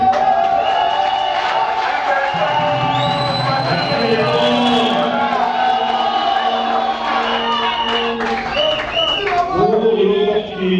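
Cheering, whoops and clapping from a large crowd at a political party headquarters inauguration in Kinshasa, steady and loud throughout, with shouting voices layered over a dense roar.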